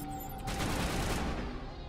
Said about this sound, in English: What the fuck are you shooting?